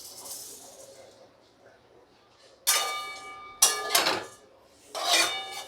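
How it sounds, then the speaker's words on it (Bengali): Dry oats being stirred and roasted in a pan with a spoon, a few bursts of scraping and rasping against the metal, close up, with quiet gaps between the strokes. "প্রথমে আমি ওটসটাকে শুকনো একটু ভেজে নেব।"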